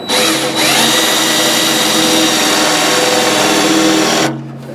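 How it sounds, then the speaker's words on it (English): Power drill boring a hole for a tractor canopy mount: a loud, steady high-speed whine close up, running nearly five seconds after a brief hesitation at the start, then cutting off. "We'll start by drilling our hole here."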